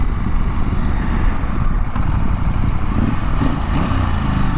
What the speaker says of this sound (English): See how I'm revving it up?